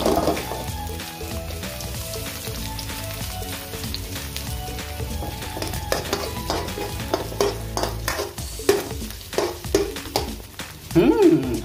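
Onions sauté in a pan with garlic already browned, giving a steady soft sizzle. Scraping stirs grow more frequent toward the end, and a few light clinks sound against the pan.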